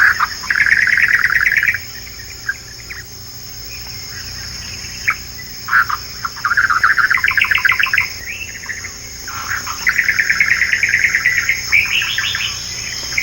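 A small bird calling from tall papyrus in the Okavango, loud rapid trilling bursts repeated several times with short pauses, over a steady thin hum of insects.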